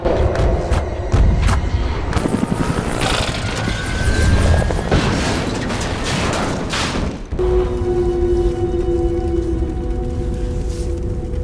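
A helicopter's rotor thumps loudly amid a rapid crackle of gunfire and booms, then the helicopter explodes in a sudden blast that cuts the chatter, leaving a droning roar with a sustained tone.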